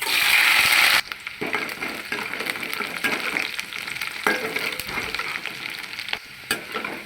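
Hot oil sizzles and crackles loudly as spices hit the pan, settling into steady spattering frying with occasional pops and stirring, no talking.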